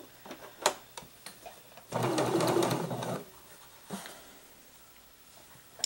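Domestic sewing machine set to zigzag stitch, sewing curtain fabric: one loud continuous whirring run of about a second, with scattered clicks and small handling knocks before and after.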